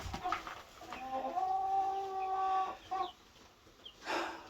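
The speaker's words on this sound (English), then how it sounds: "we have a big beautiful hen and 2 other cluckers behind him." A large hen and a couple of other chickens clucking near a coop, a drawn-out throaty call followed by shorter clucks and a brief scuffle, fairly close and alone.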